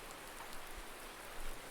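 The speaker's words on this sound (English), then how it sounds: "Let's head out here in the rain." Steady rain falls in the Farming Simulator 19 video game, a dense even hiss of drops on surfaces with no other sounds over it.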